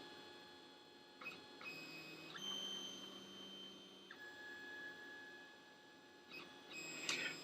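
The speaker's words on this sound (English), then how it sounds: "So let's go ahead and watch this do the AutoBed level" A 3D printer runs its automatic bed leveling routine before a print, with tonal stepper-motor whines shifting pitch as the head moves between corners and brief clicks as the probe touches down, fairly quiet and close, no talk.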